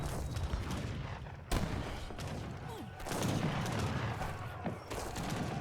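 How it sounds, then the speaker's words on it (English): Mortars fire and impact during an Age of Empires III match, heard as repeated booming thuds and crackling gunfire in dense overlapping bursts, loud and continuous. "More mortars coming in by Sabusa."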